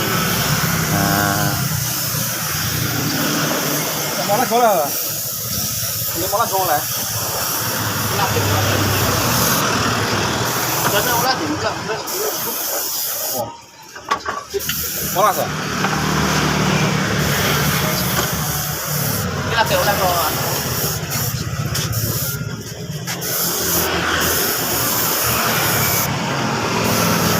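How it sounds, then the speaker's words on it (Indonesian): A spray gun lays clear coat over the repainted black body panels of a 2017 Honda Beat motorcycle, giving a steady, loud, close hiss that dips briefly midway while a voice talks now and then. "baru kita tutup, kita semprot clear seperti ini"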